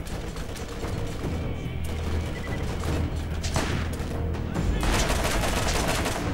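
Rapid bursts of gunfire in the video game Borderlands, loud and continuous, with automatic weapon fire and mechanical clatter layered over a dense background.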